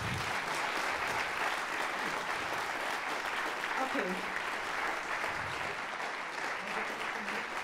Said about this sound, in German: Nochmal einen großen Applaus.